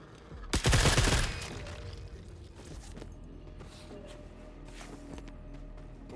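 Gunfire aimed at the Space Hind in The Forever Winter, a loud burst of rapid shots up front that drops into quieter scattered pops and rumbling mechanical background.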